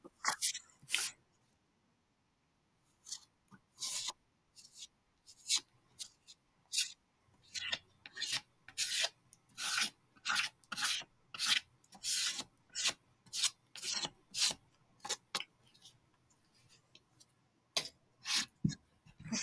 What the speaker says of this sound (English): so I have scraped that. A popsicle stick.